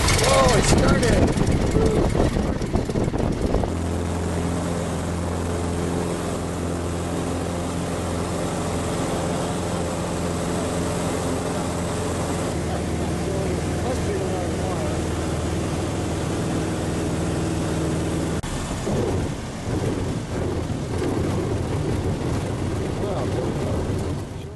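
A roughly 55-year-old Piper Super Cub light airplane cranks with a few uneven coughs, then its engine catches and settles into a steady, loud, droning run that holds throughout, with people talking intermittently over it.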